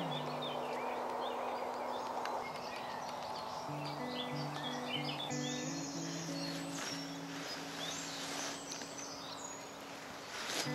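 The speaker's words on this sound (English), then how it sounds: "so is the bird song" Birdsong at sunrise during a camping trip, several birds chirping and whistling at a distance over a steady outdoor background hum, continuous and moderately faint, no one speaking.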